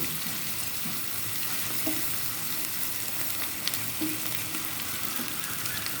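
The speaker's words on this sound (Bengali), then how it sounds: "আর গুঁড়া মরিচের গুঁড়া লবণ সবই দিয়ে দিলাম একটু কষাই নেব" Chili powder, turmeric and salt sizzle in hot oil in a pan for a chicken and new potato curry, a steady close frying hiss with a few soft stirring scrapes and no talk.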